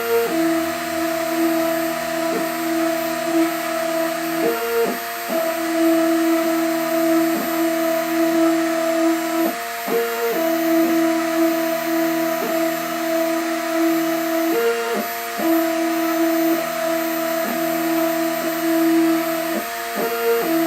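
A CNC machine engraves a pattern 0.5 mm deep into a guitar plate with a 0.5 mm cutter. Its loud, steady spindle hum shifts pitch at regular intervals as the cutter moves through repeated passes. No talking.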